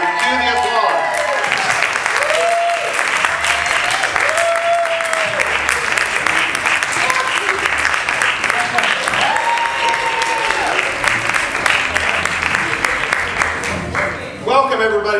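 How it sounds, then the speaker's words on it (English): A large audience applauds steadily and loudly, with cheering voices mixed in, the clapping sustained throughout before tapering near the end. "Cue the applause."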